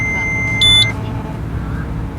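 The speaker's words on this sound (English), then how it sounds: "the LED light of the speed limiter should blink and produce a buzzing sound" A PGL speed limiter device in a vehicle gives a short electronic beep right after the ignition is switched on, a brief bright tone over a low engine hum.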